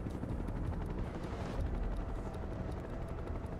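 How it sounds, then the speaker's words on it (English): Shinra helicopters circling above rooftops in the Final Fantasy VII Rebirth video game, a faint continuous rotor rumble blended with dense low game ambience, with no talk. "you're on the rooftops, which would make you easier to spot by the helicopters circling above"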